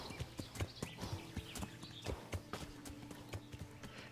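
Horse hooves clip-clopping in Kingdom Come: Deliverance, a medieval open-world game, as a horse low on stamina walks along; steady, repeated hoof thuds at moderate distance over a faint ambient background.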